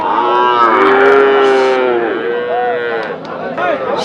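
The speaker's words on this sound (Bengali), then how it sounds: "সার দুটি কিন্তু খুবই সুন্দর সার, খামার উপযোগী দেশাল সার।" Local bulls at a busy rural cattle market in Nilphamari, loud drawn-out moos close by, overlapping calls over a crowd murmur.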